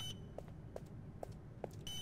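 A blast door alarm in the video game Poppy Playtime Chapter 2 beeps at a steady pace, four short evenly spaced tones at moderate level over a low background hum.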